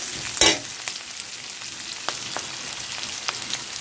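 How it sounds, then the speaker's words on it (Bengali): Mushrooms and two green chillies frying together in a pan, a steady close sizzle opening with a sharp burst of spatter, then scattered stirring clicks and crackles. "দিয়ে একসাথে এটা সুন্দর করে ভেজে নেব"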